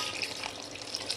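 Water poured into a simmering fish curry in a home kitchen, a short continuous splashing trickle heard close up with no voices.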